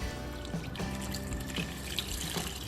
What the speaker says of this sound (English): Add half a glass to 1 glass of water